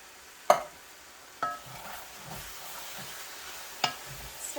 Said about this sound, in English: Let's stir that in.